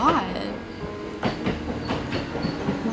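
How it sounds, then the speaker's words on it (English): A train rumbles and clatters steadily beneath a crowd, with voices calling out over the ongoing rail noise and wheel clack. "trying to match the train's rumbling noise"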